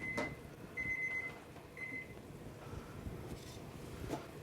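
A kitchen chef alarm thermometer beeps while a turkey cooks, giving a few short, clear high-pitched tones at uneven intervals over a faint, steady room hum.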